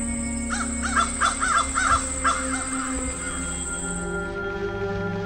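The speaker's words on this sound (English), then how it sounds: "Oh, that's a bird." A crow-like bird caws about half a dozen times in a quick, rough series, then falls quiet, over a steady droning game ambience.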